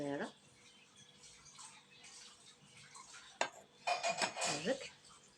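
Dough for an almond cookie being stirred in a bowl with a utensil, giving soft scraping and clinking against the sides that grows busier toward the end, with a voice speaking briefly at the start.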